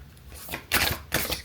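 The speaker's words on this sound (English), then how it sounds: "Get a good shuffle here." A deck of tarot cards is shuffled close up, giving quiet riffling bursts that come in two or three brisk rustling waves.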